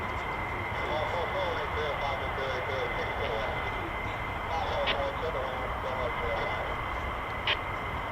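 A US Air Force fighter jet, F-15 or F-35, roars steadily at RAF Lakenheath, a broad continuous engine rumble that fills the whole stretch with no break.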